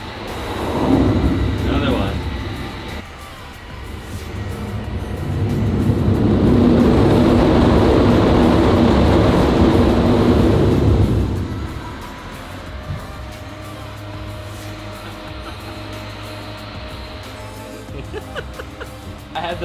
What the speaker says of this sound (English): these planes are launching literally right over top of us